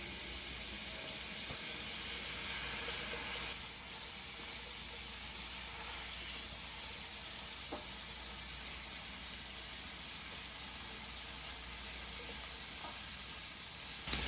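Onions and minced garlic fry in a big pot for gravy with a steady, soft hissing sizzle that holds constant throughout, with a few faint stirring clicks.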